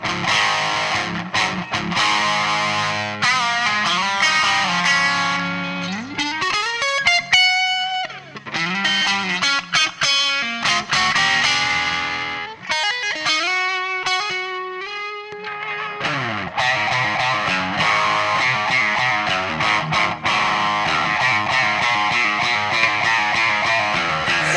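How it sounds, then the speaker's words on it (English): Electric guitar played through an MXR 78 distortion pedal used as always-on amp-style drive, loud and sustained with thick chords and a few held single-note bends, no talking. "this distortion pedal that I have, the MXR 78, is meant as always on amp distortion"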